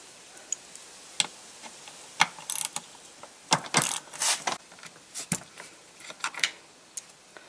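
Mechanical clicks, ratcheting and metallic clunks from a car seat's release lever and brackets being worked loose during a Chevy Camaro seat swap into a Pontiac Firebird Trans Am, close by, with irregular bursts and quiet gaps.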